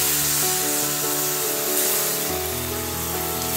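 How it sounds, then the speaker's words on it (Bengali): Water used to rinse out mustard paste is poured into a hot frying pan of small fish and piring greens, setting off a loud, continuous spitting sizzle and steamy hiss close up, with no talking. "এবার সর্ষে বাটা ধোয়া জলটা দিয়ে দিচ্ছি"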